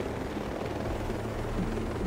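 A helicopter in the video game Ghost Recon Breakpoint drones with a steady low rotor thrum, a constant close hum throughout with no other sounds.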